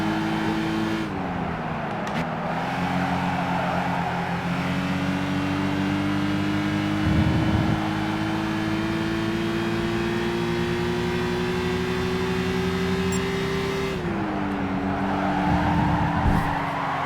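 A race car in Gran Turismo 5 drives with a steady loud engine drone that shifts pitch as gears change, with tyres skidding during a spin partway through and no talk.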